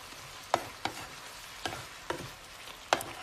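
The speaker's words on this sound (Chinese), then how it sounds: "再翻炒几下" Shrimp and cooked snow peas are stir-fried in a wok with pepper, giving a steady low sizzle broken by about five sharp spatula scrapes and clanks at uneven intervals, close and without talk.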